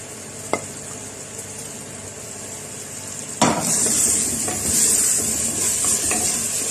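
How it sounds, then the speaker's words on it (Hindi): Masala frying in a pot with freshly chopped green chillies, a soft steady sizzle broken by a sharp clink of a spoon or utensil, then a louder sustained hiss and scraping stirring close by. "अब इसके साथ अच्छे से हम इसका मसाले की भुनाई करेंगे"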